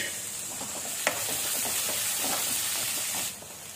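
Two tomatoes, sliced lengthwise, go into browned onion paste frying in a pan, giving a steady close sizzle with one sharp knock early on and the hiss easing near the end.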